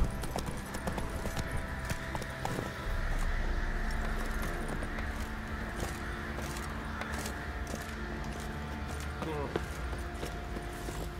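Horse hooves clip-clop steadily on the ground in The Witcher 3 video game, a soft and continuous rhythm set in a busy ambient mix with faint chatter.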